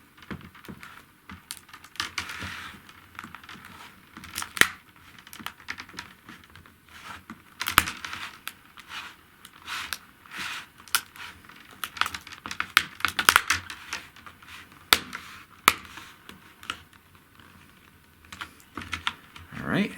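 Someone pries the plastic bezel off a Samsung Chromebook 3, making irregular sharp clicks, snaps and plastic creaks close up. Brief quiet pauses fall between the bursts.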